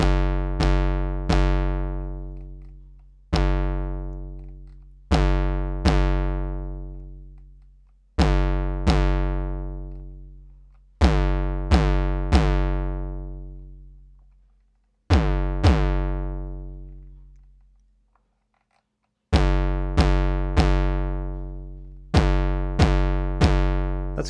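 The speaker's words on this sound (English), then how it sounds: "I'm going to give it a little bit of a pitch envelope so it sort of does like a kick sound." A Nord Drum 3P synth plays a kick voice with a pitch envelope: booming pitched hits that sweep downward and ring out, struck in loud rhythmic clusters with short silent gaps between.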